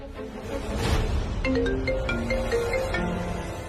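A short electronic phone ringtone melody of bright beeping tones plays over a low background hum.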